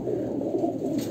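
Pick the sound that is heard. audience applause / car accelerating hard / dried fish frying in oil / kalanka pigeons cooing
kalanka pigeons cooing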